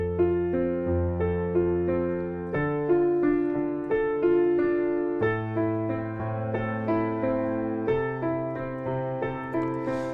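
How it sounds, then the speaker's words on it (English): Solo piano playing guitar-style right-hand arpeggios through the chords of a song, repeated note patterns rolling evenly over sustained bass chords that change every few seconds, clear and close with no voice. "Now I'll show you how to do the guitar arpeggios in the right hand"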